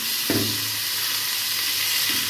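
Meat sizzling in hot fat in a pan as it is stirred, for okra stew with garlic-fried tadka, a steady frying hiss throughout with a sharp burst of sizzle early on and another near the end.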